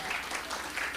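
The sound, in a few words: applause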